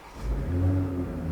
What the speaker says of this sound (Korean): 근데 이거 앉은 김에 시동 한번 걸어볼까?